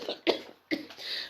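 Two close, sharp coughs from a woman in a quiet room, each a short broadband burst with a brief pause between, fairly near and moderately loud, followed by a softer breathy tail.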